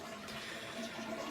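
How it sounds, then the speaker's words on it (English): A toilet flushing indoors, a steady close rush of swirling water filling the whole moment with no voices. "Oh, let me flush."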